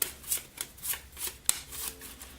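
A deck of board game cards is riffled and shuffled close by, with a quick run of soft ruffling bursts and one sharper snap near the middle, quiet and without voices.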